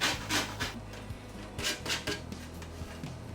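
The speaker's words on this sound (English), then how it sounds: "take a box grater and just grate the zest" Lemon zest scraped on a box grater: a quick series of close, crisp rasping strokes in an uneven rhythm, with faint clinks between them.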